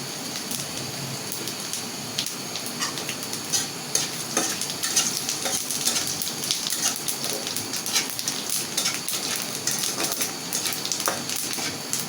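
Cumin seeds dropped into hot oil in a pan, giving a dense crackling sizzle like rain on a surface, steady and close throughout.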